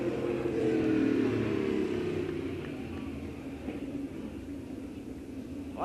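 Race cars roar around a speedway track as they come off the fourth turn toward the checkered flag, a loud blended engine drone swelling early and then fading slowly into a distant rumble.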